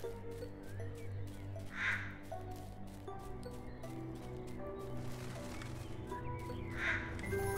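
Two distant crow caws from the game Little Misfortune, several seconds apart, faint over a steady ambient background with no speech.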